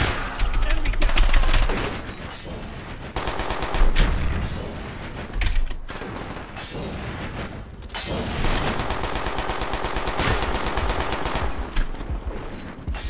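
Gunfire in the video game Black Ops during a Gun Game match, rapid loud machine-gun bursts in several long volleys separated by short pauses, with booming impacts, close and dense throughout.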